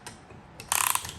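Rapid ratchet clicking from a wrench tightening a piston part on a Volkswagen Transporter 4 ACV 2.5 TDI five-cylinder engine, a short close burst of sharp metallic pawl ticks after a quieter lead-in.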